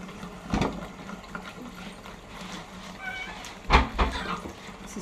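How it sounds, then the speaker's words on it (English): A wet cat meows in a kitchen, two distinct cries a few seconds apart over a steady background hum, with people talking nearby. "It's a stupid cat"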